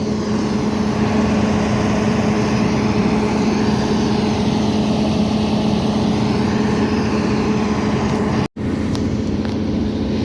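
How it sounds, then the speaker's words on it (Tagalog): A standby generator at a riverside esplanade event site runs with a loud, steady low engine drone and constant hum, close by and without variation apart from one brief dropout near the end. "So dito naka-standby yung generator."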